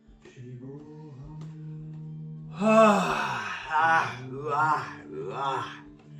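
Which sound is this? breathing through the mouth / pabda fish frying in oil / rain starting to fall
breathing through the mouth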